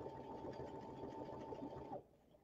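A Baby Lock Presto II sewing machine stitches letters onto fabric, giving a steady, fast mechanical whir close by that runs for about two seconds and then stops, leaving a quiet room.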